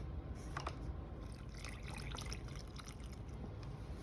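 Vegetable stock poured gradually from a carton into butternut squash soup, a steady close liquid trickle and splash running throughout with no talk.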